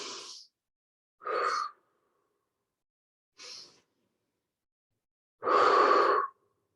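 Deep yoga breaths close to the microphone, in four separate breathy bursts with silent pauses between them. The last is the longest and loudest exhale, and no one speaks.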